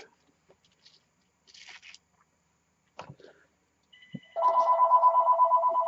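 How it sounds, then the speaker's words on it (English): A mobile phone ringtone starts abruptly near the end as a loud, steady, pulsing electronic tone. Before it come sparse, quiet taps and handling sounds. "There goes my phone."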